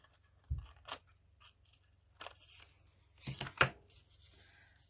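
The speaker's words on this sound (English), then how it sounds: "Scissors. Trim that edge better." Scissors trimming the edge of a paper card for a Rolodex card pocket, several quiet, crisp snips spaced irregularly with short pauses between cuts, close up in a quiet room.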